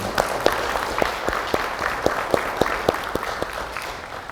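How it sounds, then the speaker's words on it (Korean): An audience at a forum applauds a pianist who composed the pieces played, a steady wash of clapping with distinct sharp claps standing out near the front. "다시 한번 큰 박수 부탁드리겠습니다"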